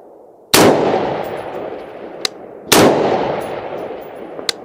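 Two loud, sharp rifle shots fired at a range, each followed by a long rolling echo and then, about a second and a half later, a faint metallic clang of the bullet striking a distant steel target at 200 to 600 yards.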